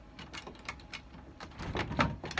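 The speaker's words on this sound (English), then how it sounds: "Get this latch. That'll be good." A latch being fastened on a carving shop door, a run of small metallic clicks and knocks close by, building to a firmer clack near the end, with no voices.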